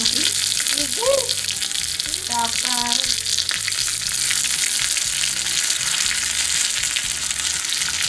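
Dried red chillies and curry leaves hit hot oil for a Palakkad-style padavalanga mulagushyam, giving a loud, dense, continuous sizzle up close, with a few brief tonal squeaks or voice-like sounds early on.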